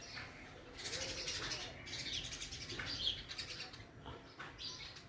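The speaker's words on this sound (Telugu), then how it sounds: "ఇవి మా ఇంట్లో ఉన్న పిచ్చుకలు." House sparrows at a home chirp in quick, faint bursts of high tweets, scattered and overlapping, with soft coos and a brief wing flutter in the background.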